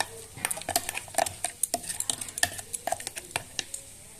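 A spoon stirs ground lentil paste with fish roe, chili powder, turmeric and salt in a bowl, making a quick, irregular run of close, crisp clicks and taps.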